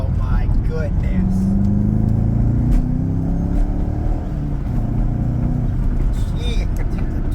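A Chevrolet Corvette C5 with a manual gearbox accelerating: a loud engine drone heard from inside the car, its pitch climbing steadily before holding, with a constant road rumble underneath.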